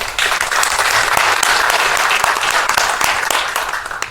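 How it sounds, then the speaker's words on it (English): Steady, dense applause from a seated audience at a Distinguished Young Women scholarship showcase, loud and sustained for about four seconds with no voices over it. "Let's give those supporters a big round of applause."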